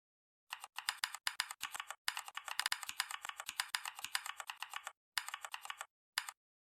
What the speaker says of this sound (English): as you type in, you will hear some really satisfying keyboard sounds